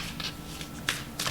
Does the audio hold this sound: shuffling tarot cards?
yes